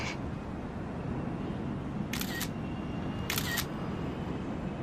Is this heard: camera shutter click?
yes